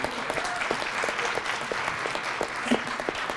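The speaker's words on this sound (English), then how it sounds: "Why don't we give our MC Kainoa a big round of applause" An audience at a regenerative agriculture panel event applauds the MC with steady, dense clapping from a crowd in a room, sustained at an even level throughout.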